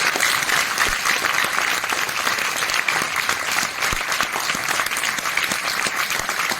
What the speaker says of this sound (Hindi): और मैं चाहती हूँ कि जोरदार तालियां उनके लिए बने।